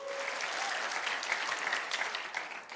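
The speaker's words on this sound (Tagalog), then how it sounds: "Palakpak na mga buhay." A church congregation applauds together in a steady, dense burst of clapping that fills the room, with a faint voice near the start.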